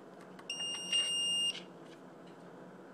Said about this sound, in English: It's got a piezo. It sounds an audible alarm.